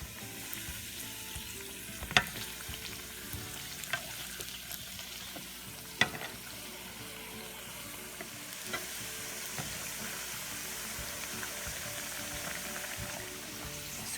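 Swiss cookie dough bow ties fry in hot oil with a steady, even crackle and sizzle, broken by a few sharp clinks near the start and midway, with no talking.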